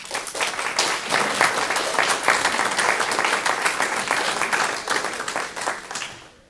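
An audience at a school district candidate forum applauding, dense and sustained clapping that holds steady for several seconds before tapering off at the end.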